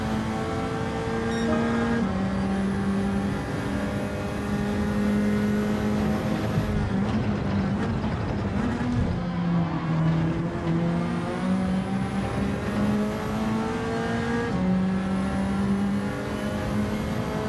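Ferrari race car in Gran Turismo 7 with a close, loud sustained engine whine that rises and drops through gear changes, holding a high steady pitch between shifts, with no voices over it.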